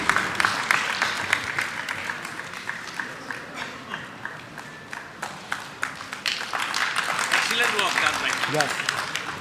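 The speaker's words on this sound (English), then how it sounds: "Please put a big round of applause for this gentleman." Audience applause at a national conference valedictory session on mediation, a steady patter of clapping mixed with crowd murmur and speech throughout, moderately loud in a large hall.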